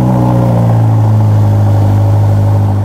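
A Ferrari SF90 engine on cold start, a loud, close, steady idle with a strong low throbbing hum that barely varies across the clip, with no voices over it.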